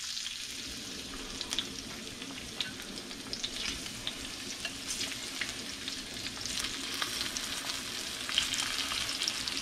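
Shrimp sautéing in a pan after ketchup has been added, a soft continuous sizzle with scattered pops and light stirring scrapes, fairly quiet and close, with no talking.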